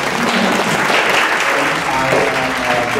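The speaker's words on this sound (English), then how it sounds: "Joe, give me a round of applause, Joe." An audience at a tech meetup breaks into a loud round of applause, a full, close burst of clapping with some voices mixed in from the crowd.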